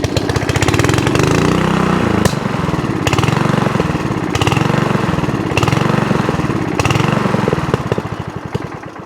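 An old barn-find lawn mower engine, stored for years and with a suspect worn O-ring in the slow idle circuit, runs loudly up close with a rough, uneven idle that surges and dips rhythmically before fading at the end.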